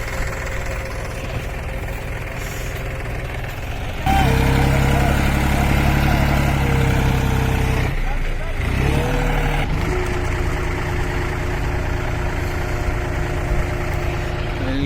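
A John Deere five-cylinder tractor stuck in mud in bad weather, its engine roaring loudly and steadily as it strains to pull free, with a brief dip in the engine note partway through.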